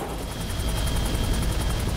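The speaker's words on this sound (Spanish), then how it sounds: "los helicópteros sobrevolaron la zona" Helicopters fly over a mountain area in La Guajira, Colombia, a steady broad rotor roar with a faint high pulsing chop, loud and continuous without talk.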